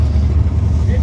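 A drag racing car's engine with an open exhaust and mufflers removed idles and burbles roughly nearby in the pits, a loud, deep, uneven rumble filling the short moment.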